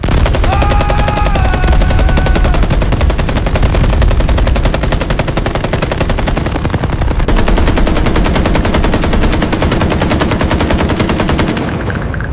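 Loud, relentless machine gun fire as a sound effect: rapid automatic bursts rattle on without pause for the whole stretch, with no voices.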